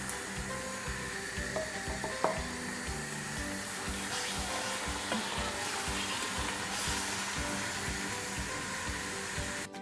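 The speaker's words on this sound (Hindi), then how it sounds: "गोश्त जो है ना अच्छी तरह भूनेंगे" Beef pieces sizzle steadily in a pot of hot oil while being browned for nihari, a dense continuous frying hiss with faint scraping and clinks of stirring throughout, close and fairly loud, with no talking.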